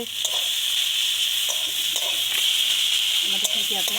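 Dried fish (shutki) fries in a pan with a steady, bright sizzle, close and continuous, with a few faint clinks of stirring.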